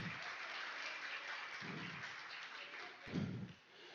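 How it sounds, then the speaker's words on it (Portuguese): Congregation applauding in a church, a steady, fairly quiet wash of many hands clapping with a few low thumps, swelling briefly near the end. "Será que você pode dar um aplauso a Jesus?"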